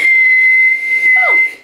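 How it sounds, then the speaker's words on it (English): A person whistles by sucking air in, holding one long steady close tone, then after a brief break adds a short falling slide. "I can whistle, but only if I'm sucking in instead of blowing out."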